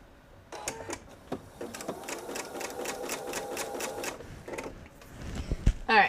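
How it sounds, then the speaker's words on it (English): Sewing machine stitching quilt fabric, a rapid rhythmic run of needle strokes for about three seconds, then a shorter burst and a handling clatter, fairly quiet and close, with a voice briefly present. "Let's go over to the machine and get this stitched up."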